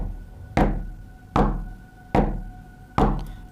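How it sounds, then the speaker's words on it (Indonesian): Knocking on a door: four loud, evenly spaced single knocks, each with a ringing decay, separated by quiet pauses. "Tapi anehnya ketukan itu selalu terdengar sebanyak 5 kali."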